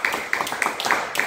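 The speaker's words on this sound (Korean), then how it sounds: "우리 박수로 감사하고" A church congregation claps together in thanks, a brief run of evenly spaced, rhythmic claps from a room full of people.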